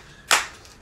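Two close, crisp hand claps come about half a second apart during a children's clapping song, with no voices between them.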